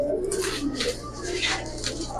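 Giribaz pigeons give soft, low cooing murmurs close at hand, fairly faint and continuous, with a steady background hum.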